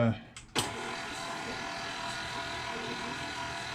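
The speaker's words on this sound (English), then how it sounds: "Lower the mixer and" An electric mixer runs through oatmeal cookie dough, starting with a brief clunk and then holding a steady, close whirring drone until the end.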